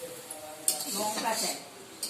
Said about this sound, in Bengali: মা বসে গেছে আর শাক ভাজা হচ্ছে এখন